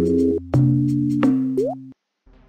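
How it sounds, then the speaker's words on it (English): Cartoonish drip-drop water effect from the Scratch sound library: a few distinct plopping tones with a rising pitched drop near the end, loud and close, followed by a brief quiet gap. "So I'm going to pick this drip drop."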